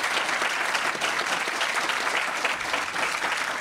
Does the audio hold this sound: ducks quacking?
no